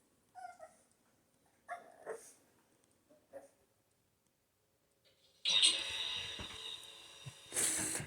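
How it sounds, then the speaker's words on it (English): Several short, soft whimpers and yips from a puppy stuck on a couch come in isolated bursts, followed by louder, noisier handling sounds near the end. "The puppy's on the couch and he's stuck."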